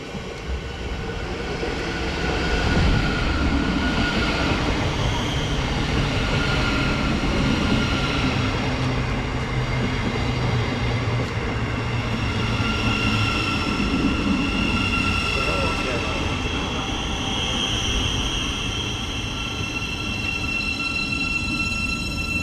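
Class 700 electric train 700 054 arriving at a station on the East Coast Main Line, a loud continuous rumble with wheel squeal and hiss rising and easing as it pulls in, heard close on the platform.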